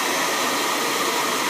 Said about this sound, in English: going to go ahead and blow dry this top section right in here